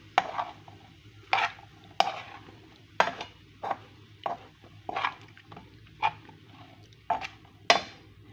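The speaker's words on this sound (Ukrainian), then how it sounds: "Зараз я сюди додаю гриби і продовжую готувати. Перемішую." Mushrooms being stirred with cooked carrot and onion in a pan, a utensil scraping and clacking against the metal in irregular bursts about every half second to second, close and fairly quiet, with a low steady hum underneath.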